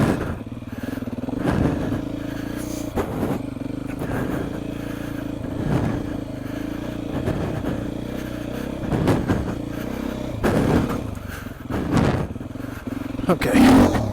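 A Beta motorcycle engine revs and drones steadily while being ridden, with repeated throttle blips and thumps from a touchy throttle, the engine note loud and continuous with wind or road noise over it.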